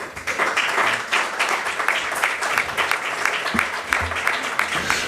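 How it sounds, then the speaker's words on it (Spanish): Warm, sustained applause from a conference audience welcoming speaker David Pastor Vico, many hands clapping in a dense, even wash that holds for several seconds. "recibamos con un caluroso aplauso a David Pastor Vico"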